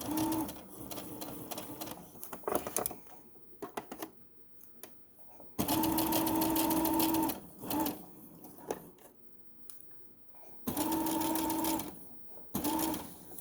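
Sewing machine stitching down a tote bag handle near a side seam, in bursts of steady whirring run at moderate speed, separated by pauses with small clicks and handling noises.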